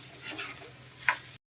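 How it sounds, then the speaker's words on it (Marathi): Prawns sizzling softly in oil with onion, grated coconut and masala in a pan, with a stirring scrape and a brief clink before the sound cuts off. "कोलंबी थोडी फ्राय झाली तर सुटलं"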